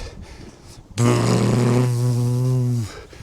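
A loud buzzing hum imitating a drone, made by a voice, held steady for about two seconds before cutting off.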